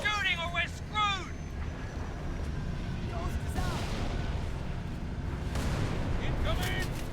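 Dense battle noise from the video game Halo: ODST, a continuous low rumble of gunfire and blasts with sharp electronic chirps and whistles scattered over it, while voices talk over the action.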